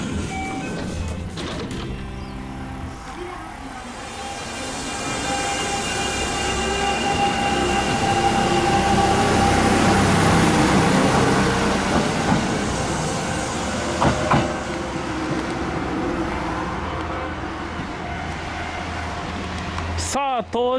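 A Kintetsu train pulls into Kutsukake station, its rumble and clatter swelling from inside the car, then easing as it slows with wheel squeals and a brake hiss near the end, under a running interior hum.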